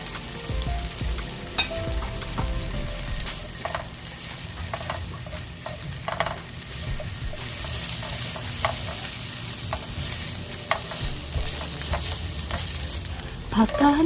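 Spam sizzles and fries in a hot pan over medium heat, a steady crackling hiss broken by scattered pops and occasional scraping as it is stirred, close and continuous.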